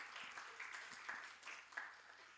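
Thin, distant applause from a church congregation at a Sunday high-school worship service, a soft steady patter lasting a couple of seconds.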